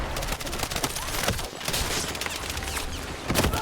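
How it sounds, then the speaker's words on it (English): Battlefield 6 combat: a dense, continuous barrage of close gunfire with a heavier blast bursting through near the end, loud and chaotic throughout. "That's a grenade."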